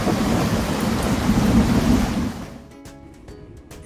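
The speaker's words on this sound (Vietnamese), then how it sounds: "À, chết, mưa mất rồi." Heavy rain and rolling thunder roar loudly together in a game-making challenge clip, then the storm drops away abruptly, leaving faint clicks and quiet.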